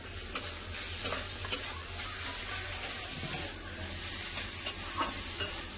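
Chicken fries with onions in a pan, the meat now browned, producing a steady close sizzle with periodic spatula scrapes and taps throughout.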